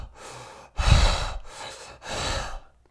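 A person imitates animalistic huffing breathing, three heavy breathy puffs and snorts close to the microphone, the second the loudest, with no words.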